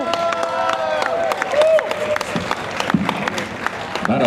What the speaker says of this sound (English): That applause can be much louder for our EP